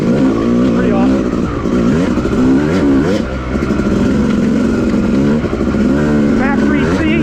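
A Yamaha YZ250 two-stroke dirt bike revs up and down on a muddy woods trail after rain, the engine loud and close with rapid throttle swells throughout.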